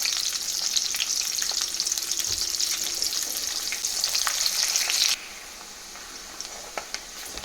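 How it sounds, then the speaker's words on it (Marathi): A little chopped onion fries in oil to brown, giving a loud, steady crackling sizzle that drops abruptly to a quieter hiss partway through, with faint stirring clicks. "कांदा छान लाल करून घ्यायचा।"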